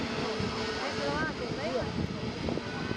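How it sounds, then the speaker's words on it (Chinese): An airplane at Yulin airport spins up its engines before takeoff, giving a steady, distant drone under voices and crowd murmur. "两边的引擎呢也在快速转动"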